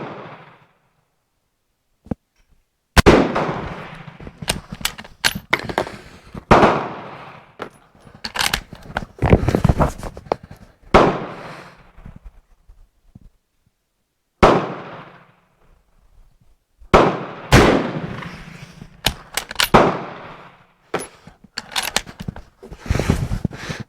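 Rifle shots from a Swedish Mauser 96/38 and a K31 firing a faster load outdoors, a long series of sharp, loud cracks, some in quick pairs, spread across the stretch with brief quiet gaps and trailing echoes.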